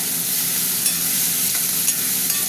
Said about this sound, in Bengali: পেঁয়াজের সাথে চিংড়ি মাছগুলো ভাজা হতে থাক।